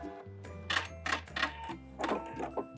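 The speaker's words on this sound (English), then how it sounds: "Backstitch at the end of your seam and cut." A sewing machine backstitches at the end of a fabric seam: a steady low motor hum is broken by several quick, rhythmic clacking bursts of stitching, close and fairly loud, with no talking.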